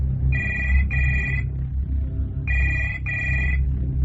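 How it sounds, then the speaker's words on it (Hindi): A telephone rings in two double bursts, a pause between the pairs, over a steady low hum of room noise. "यहां पर हर रात रूम नंबर 113 से फोन आता है"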